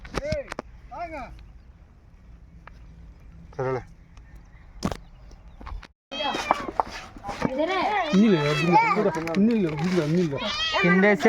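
A cat meows several times with rising, wavering cries, followed by a stretch of loud, overlapping voices nearby.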